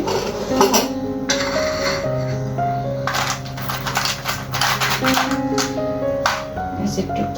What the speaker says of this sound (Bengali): সাথে একটু আইসও দিয়ে দিচ্ছি